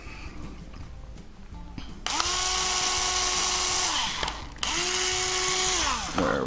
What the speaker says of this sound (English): use an 1/8 inch bit for your pilot hole